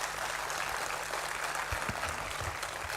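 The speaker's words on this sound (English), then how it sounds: "I would like to request the audience to give a big applause to Dr." An audience applauds at a research institute's annual day celebration, a dense and sustained wash of clapping that fills the hall evenly from start to finish.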